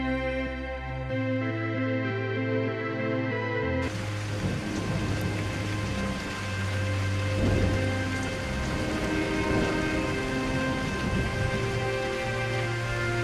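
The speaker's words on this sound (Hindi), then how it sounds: "कितनी मूसलाधार बारिश हो रही है" Heavy downpour in an animated cartoon, a dense, loud, steady hiss of rain with low rumbling thunder underneath, entering over a tonal music-like opening.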